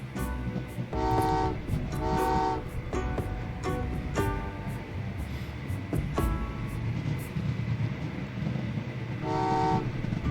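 Trains run in the railway puzzle game Train Valley 2, with repeated short tonal horn toots spaced across the stretch over a continuous rolling rail rumble, loud and close.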